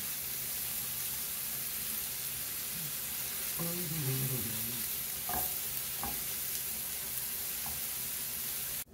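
Garlic and chopped portobello mushrooms fry in a skillet with a soft, steady sizzle, joined by a few clinks and scrapes of stirring. The sound is quiet and close.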